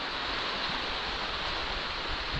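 Heavy monsoon rain pours outside in rural Konkan on an evening after a sunny day, making a dense, uniform roar that stays loud and unbroken throughout.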